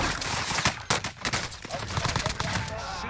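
Rapid, loud gunfire bursts from a shooter video game, with close, dense volleys and scattered single shots running through the whole stretch and a faint voice now and then.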